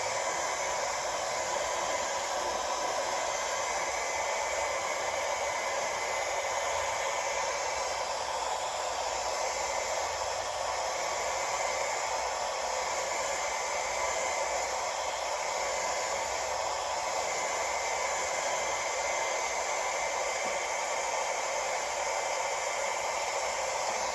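Heat gun blowing hot air onto thick plastic, a steady loud broadband roaring hiss that holds unchanged throughout, with no talking.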